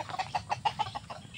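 A hen clucks in a quick, close run of about eight evenly spaced clucks within barely more than a second.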